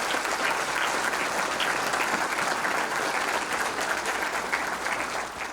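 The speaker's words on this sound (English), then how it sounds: "I think we can give Dr. Andrew Port another round of applause for that wonderful program" An audience applauding after a lecture on Germans and genocide after the Holocaust, sustained close clapping from a full room that stays even and loud throughout.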